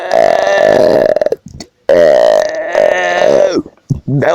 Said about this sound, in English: Man, what is up with my burping?